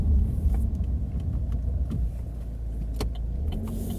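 A car on a wet road in La Mata, Spain, circling a roundabout, with a steady low engine and tyre rumble throughout, a few brief clicks and ticks over it, and no talk.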